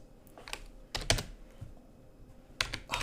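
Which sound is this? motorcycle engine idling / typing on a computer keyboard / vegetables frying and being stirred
typing on a computer keyboard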